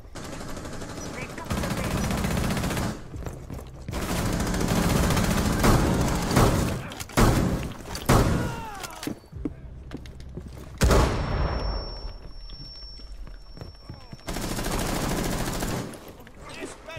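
Rapid pistol gunfire from the Tempest in Rainbow Six Siege rings out in several loud bursts of quick cracks separated by short pauses, with voices talking between shots.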